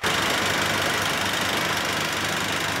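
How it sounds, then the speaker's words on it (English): A spouter turf sprayer with a large fan at the back of its cylinder roars at close range, giving a loud, continuous rushing engine-and-fan drone that holds steady throughout. "This is a spouter sprayer."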